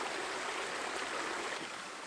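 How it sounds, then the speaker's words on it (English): A small stream fed by natural hot springs flows nearby, a soft, continuous babbling and trickling at low volume with no voices. "This little stream is flowing from the natural hot springs further up behind me."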